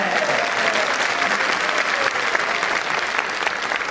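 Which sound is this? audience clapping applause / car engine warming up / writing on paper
audience clapping applause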